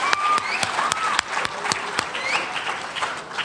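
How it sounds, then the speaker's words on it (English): An audience at a high school poetry recitation finals claps, with a few sharp nearby claps standing out over the scattered applause of the room. "Yep, you can applaud for that."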